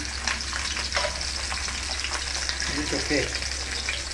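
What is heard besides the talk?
food frying and being stirred in a pan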